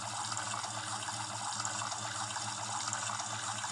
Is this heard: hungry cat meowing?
no